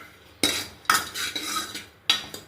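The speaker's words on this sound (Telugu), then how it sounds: "కొద్దిగా నెయ్యి వేసి కొద్దిగా ఫ్రై చేస్తున్నాను" A big spoon stirs ingredients frying in ghee for jaggery payasam, striking the pan in about four sharp metallic clanks with scraping between them and only a faint sizzle underneath.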